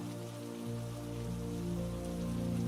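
Steady rain falls and patters on surfaces in a palace garden, a continuous soft wash of drops running the whole time beneath sustained, gentle music.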